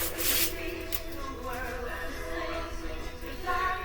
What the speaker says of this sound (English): So I'll be sanding on this for a little bit.